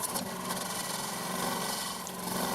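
A carbide turning tool cuts steadily into spalted timber on a lathe, a continuous loud rasping, scraping rumble with a brief sharper catch near the end, no voices.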